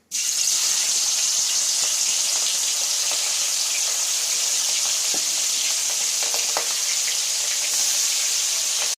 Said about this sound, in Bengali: চিংড়ি মাছ কেটে ধুয়ে নিয়ে আসছি, লবণ হলুদ মাখানো হয়ে গেছে, তেলে দিচ্ছি।